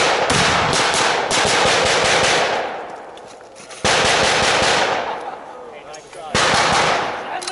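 Sustained bursts of MG42 machine gun fire at a WWII battle re-enactment, loud and close, in three long rattling volleys separated by brief lulls, with shouting voices mixed in.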